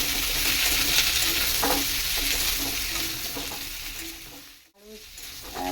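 Jackfruit seeds fry lightly in a pan, giving a steady close sizzle with stirring scrapes and a brief dip in the sound near the end.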